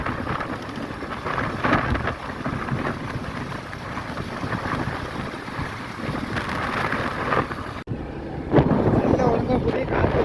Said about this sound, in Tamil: காத்து பயங்கரமா இருக்கும்